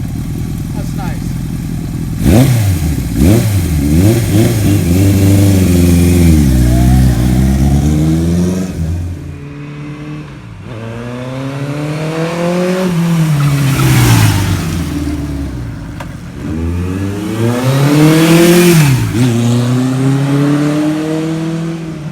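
A 1978 Kawasaki KZ1000 motorcycle engine revs up and down repeatedly while riding, loud and close, with rising and falling pitch sweeps through several gear pulls on an evening ride.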